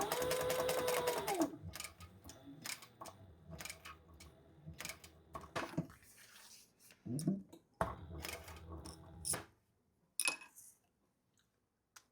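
A sewing machine stitches a black-on-black wallet in short bursts of rapid mechanical clatter, separated by pauses and handling noises, close up at fairly low level.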